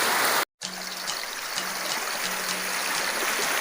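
Water rushes steadily from an underground waterfall stream, a dense close wash of flowing water that continues throughout after a brief cut near the start.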